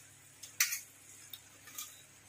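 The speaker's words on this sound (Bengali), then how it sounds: "পাস্তাগুলোকে দিয়ে সসের সাথে ভালোভাবে মিশিয়ে নিতে হবে" Boiled pasta being stirred into a creamy white sauce in a pan, heard as a few quiet, brief scrapes and clinks of a spoon against the cookware, with one sharper knock.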